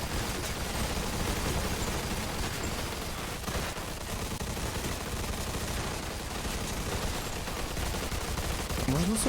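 Dense, continuous bursts of rapid gunfire from Mafia II: Definitive Edition fill the whole stretch, loud and chaotic like a game firefight, with no pauses.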